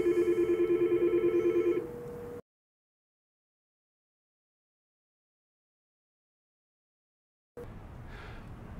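Yealink T41/T42 desk phone ringing with an incoming call: a loud, repeating electronic ring pattern for about two seconds, then silence, then faint room noise returning near the end.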